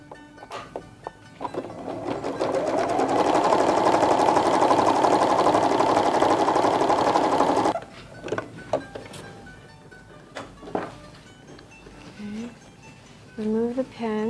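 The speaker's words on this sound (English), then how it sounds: "Now I'll sew my flower hat lining and outer part together around the" A sewing machine stitches flower hat lining and outer fabric together in a steady whirring run of about six seconds, followed by scattered clicks, handling noises and some talk.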